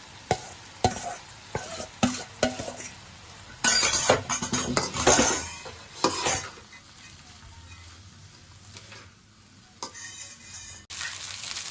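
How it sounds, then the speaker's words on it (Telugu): Rice being stirred into egg fried rice in a pan, with scraping and clinking spoon strokes against the pan and a steady sizzle of frying throughout, busier in the middle stretch and settling toward the end. "రైస్ వేసి కలుపుకుందాం."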